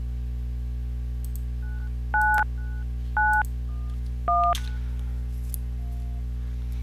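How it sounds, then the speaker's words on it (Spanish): Telephone keypad DTMF tones dial extension 9991 on a softphone: a few short, clean beeps, evenly spaced about a second apart, over a steady low electrical hum. "Entonces vamos a marcar la extensión 9991."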